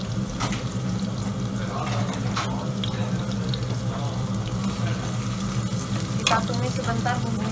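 Spicy Szechuan spice paste for sliced beef sizzling and sautéing in a pan, a steady crackling fry with occasional scraping and clinks from stirring, moderately close, no talk.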